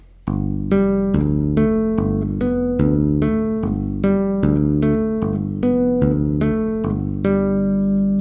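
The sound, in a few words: bass guitar tapping, alternating melody and bass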